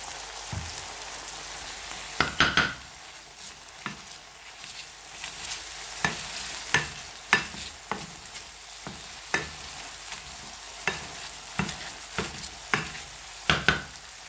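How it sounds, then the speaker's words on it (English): Cooked peas being mashed by hand for classic mushy peas, giving a series of wet, squelchy thuds and clicks at an irregular rhythm, close and moderately loud with no talking. "we're just going to mash them. So mash the peas."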